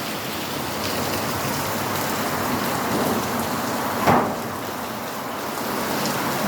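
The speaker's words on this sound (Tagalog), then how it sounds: "Super lakas ng ulan." Heavy rain pours steadily as a dense, close wash on surfaces, with one brief louder crack or thump partway through and no voices.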